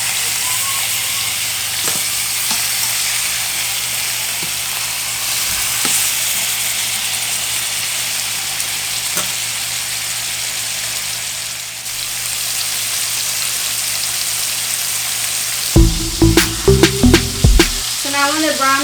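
Pork chops frying crispy brown in a pan give a steady, close sizzle and crackle throughout. Near the end comes a quick series of clinks and clatters as the meat is turned.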